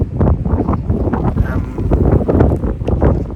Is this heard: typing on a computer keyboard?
no